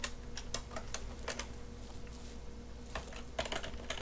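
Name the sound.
typing a print command on a computer keyboard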